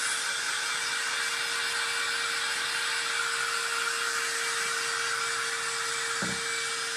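A heat gun blows hot air onto craft material for an upcycled Home Depot project, giving a loud steady whir with a constant tone and no talk over it.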